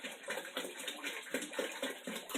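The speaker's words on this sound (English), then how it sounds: "Finish filling your bucket." Tap water runs steadily into a bucket while pear wine is being made, a continuous close splashing gush with no talk.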